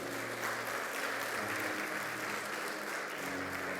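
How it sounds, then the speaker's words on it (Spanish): Congregation in a church breaking into loud, sustained applause, a dense steady wash of clapping that fills the room for the whole stretch with no voices standing out. "Dale un fuerte aplauso al Señor."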